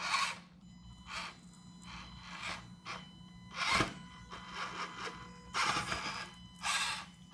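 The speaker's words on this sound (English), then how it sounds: "Now, this is the 100-turn motor." An Axial SCX24 RC crawler fitted with a 100-turn motor runs in short whirring bursts of gear and motor whine, starting and stopping several times, close and fairly quiet.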